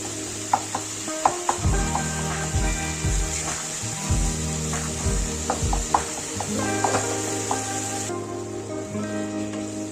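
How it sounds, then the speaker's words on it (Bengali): Spices for motor shutir ghugni, a pea curry, stir-fried with chopped tomato and coriander in a pan: a steady sizzle under repeated scraping knocks of a spoon against the pan, near and fairly loud. "মশলাটা ভালোভাবে কষিয়ে নেব"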